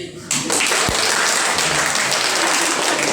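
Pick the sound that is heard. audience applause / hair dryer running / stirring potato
audience applause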